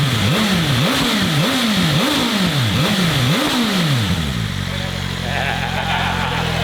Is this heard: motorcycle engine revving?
yes